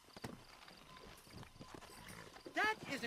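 Horse hooves clip-clop at a steady walking gait in the Red Dead Redemption video game, fairly faint beneath soft background sound, with a short louder burst near the end.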